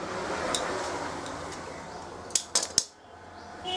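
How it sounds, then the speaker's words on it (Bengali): Scissors snipping jute twine for a handicraft, three sharp close clicks in quick succession toward the end after a quiet stretch of faint handling noise. "এবার এইখানটাকে আমি কেটে দিচ্ছি"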